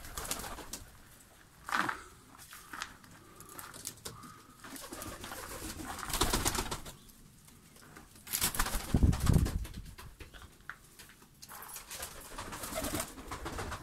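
Fancy breeding pigeons in a loft coo in low, throaty bursts that come and go, with soft rustling and occasional wing flutters nearby, no speech.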